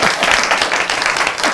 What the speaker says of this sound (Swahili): Wapi makofi ya Mahesh?